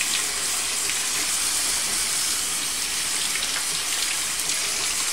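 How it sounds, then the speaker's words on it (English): Very cold tap water runs in a steady, hissing stream while a cooked crab is rinsed, an even, continuous splash at moderate volume with no voices. "And I'm running very cold water."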